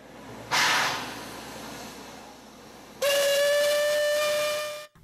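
A steam locomotive on the Alishan forest railway lets out a burst of hissing steam, then after a pause a loud, sustained whistle sounds alone for about two seconds before cutting off.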